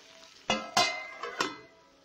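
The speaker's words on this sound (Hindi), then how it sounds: "देखिए इस तरह से हम इसको एक दो बार चला लेंगे" Spoon scraping and clanking against a pot as a pea, cream and capsicum curry is stirred, four distinct close strokes in quick succession over a soft background hiss.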